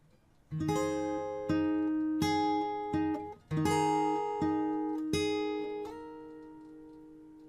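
A bar played slowly in fingerstyle on acoustic guitar, with a handful of clear plucked chords and single notes ringing out one after another, alone with no talking.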